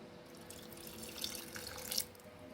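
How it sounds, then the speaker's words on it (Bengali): Sugarcane juice pours into a pot of boiled rice while making payesh, a faint, steady liquid trickle and splash that swells briefly near the end, with no voices. "এবার আখের রসটা অ্যাড করে দিচ্ছি।"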